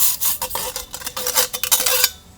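A wood stove's chimney pipe being scrubbed at a lakeside campsite, loud close bursts of rough rasping strokes in an uneven rhythm, then fading out, no voices.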